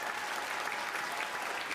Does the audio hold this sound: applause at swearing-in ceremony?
yes